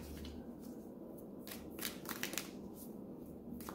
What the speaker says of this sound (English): just gonna give one more shuffle and then we are gonna run through these